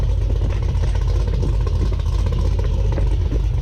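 A 2017 Camaro ZL1 engine on a dyno runs loudly and steadily with a deep low rumble through a catted exhaust with mufflers, held near a constant rev with slight surges, no voices over it.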